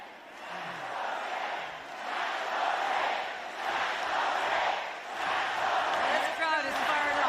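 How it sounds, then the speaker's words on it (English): A large rally crowd roars and cheers in sustained swelling waves, loud and dense throughout, with scattered voices shouting within the din. "This crowd is fired up."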